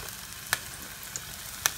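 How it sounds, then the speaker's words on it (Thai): Garlic stir-fries in a pan for Japanese curry udon, a faint steady sizzle broken by two sharp scraping clicks of a utensil, close and without any talk. "แล้วก็ผัดให้หอมพอนะครับผม"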